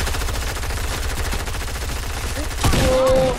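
Rapid burst-fire gunshots from a video game rattle on steadily and loudly in dense volleys, with a heavier blast near the end and a short tonal ring trailing after.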